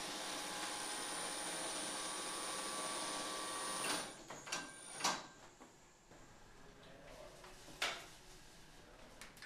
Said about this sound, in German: Die tiefen Saiten werden auf dieser Maschine mit Kupferdraht umwickelt.